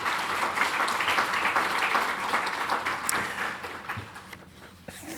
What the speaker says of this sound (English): Thank you for that spontaneous applause.